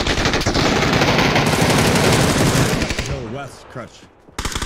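Rapid automatic gunfire from a PUBG squad match rattles loud and continuous for about three seconds, then thins out as a voice comes in over the fading shots.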